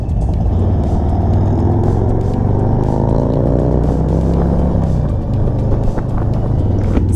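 A group of motorcycles rides through Deadwood during Sturgis, their engines making a loud, continuous drone with rising and falling revs from several bikes close by.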